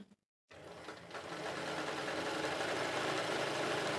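A sewing machine stitching embroidery practice with only the fixing lever set starts after a brief silence and then runs as a fast, continuous mechanical whir, close and steady to the end.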